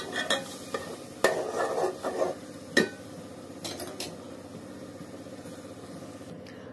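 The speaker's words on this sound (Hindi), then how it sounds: "मसालों को हम अच्छे से भूनेंगे एक दो मिनट" Spices being roasted and stirred in a hot oiled pan for crab curry, with scattered scraping and clinking of a utensil against the pan over a low steady background, louder bursts early on, then quieter.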